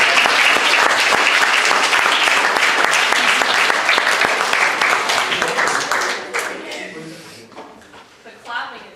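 An audience at a National Honor Society induction at Nora School claps loudly and steadily, the applause thinning into scattered claps and tapering off near the end.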